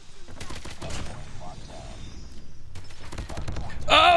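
Bursts of Oden rifle fire in COD Mobile, short controlled taps and quick volleys of sharp shots, with a voice talking underneath and a louder burst at the end.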